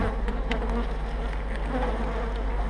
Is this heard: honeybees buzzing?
yes